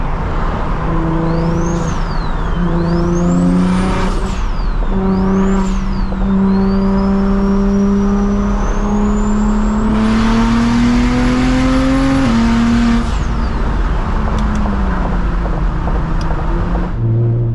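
Ford Mustang exhaust burbling from nearby at night while riding in a single-turbo BMW 335is, a steady loud engine drone with rising and falling revs and whining tones, no talking.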